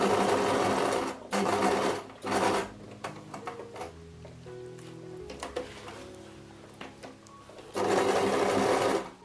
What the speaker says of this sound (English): Then I want to do the rectangle stitch again with the X in the center.